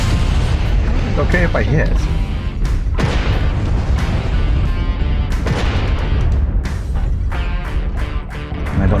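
Rapid heavy weapon fire from a Night Gyr mech armed with ER PPC and LB-10X autocannon in MechWarrior Online, booming blasts and crackling impacts in dense bursts, with a player talking over the gunfire.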